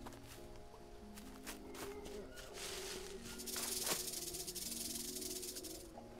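A snake hisses in the jungle survival video game Green Hell, a faint, breathy hiss swelling over soft footsteps and ambient game music with no talking.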